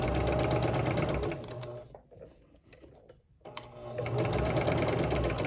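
A sewing machine stitches a fabric pillow with a fast, steady mechanical whir. It stops briefly in the middle, then runs again at full, close, even speed.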